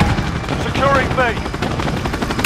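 Bursts of automatic rifle fire from Call of Duty Modern Warfare multiplayer gameplay, with a GRAU 5.56 in the mix, rattle loudly alongside chirpy game sound effects and the clatter of a firefight.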